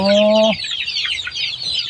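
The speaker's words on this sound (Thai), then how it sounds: "อันนี้เป็ดครับ นี่เป็ด" Ducks at a village poultry farm in Nakhon Ratchasima, Thailand, calling in quick, close, loud quacks and chatters after a brief held tone at the start.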